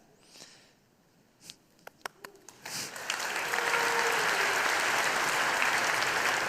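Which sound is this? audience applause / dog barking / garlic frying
audience applause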